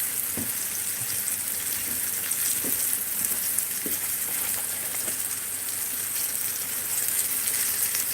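Okra, green tomatoes, Vidalia onions and peppers frying in oil in a pan, a steady close sizzle with occasional soft clinks and stirring taps, no talking.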